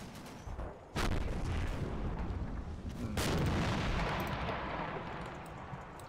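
An artillery shell lands in the World War II tactics game Combat Mission Final Blitzkrieg at Stavelot: two heavy booming blasts about two seconds apart, each followed by a long rumbling, crackling tail of debris and distant gunfire.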